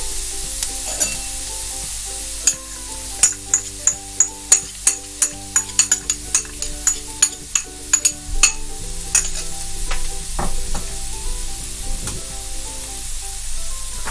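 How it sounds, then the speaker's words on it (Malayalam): Julienned ginger drops into a hot pan with garlic for restaurant-style chilli chicken, giving a steady close sizzle under a run of sharp clinks and scrapes of stirring. "ഇതിനകത്തേക്ക് നമ്മൾ ജൂലിയൻ ചെയ്ത് വെച്ചിരുന്ന ഇഞ്ചി ഇട്ട് കൊടുക്കാം."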